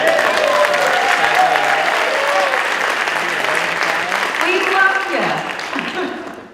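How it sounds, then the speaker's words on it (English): Audience applause fills a cannabis science and networking panel event, a dense, steady wash of clapping from a crowd that runs loudly throughout, with cheering voices and talk rising over it near the end. "Can we clap it up for Eric?"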